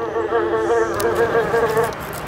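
At an insect exhibit in Clark, Pampanga, a large bee or fly buzzes in a steady, close drone with slight wavering pitch, with faint background clatter and no clear talk.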